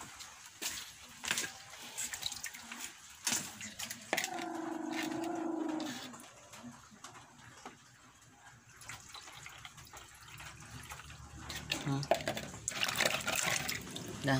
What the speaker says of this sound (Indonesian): Ini kasih air buat minumnya.